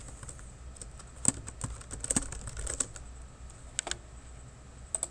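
Someone types a template name on a computer keyboard, producing a quick, uneven run of light key clicks with a few sharper taps, heard close with no talking.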